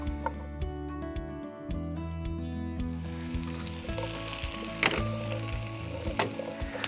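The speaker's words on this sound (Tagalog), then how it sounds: "Igigisa ko lang dyan muna itong kalabasa." Squash (kalabasa) sautéing with garlic in a pan outdoors at a farm, a bright continuous sizzle close up, with low humming tones in the background and a few soft knocks from stirring.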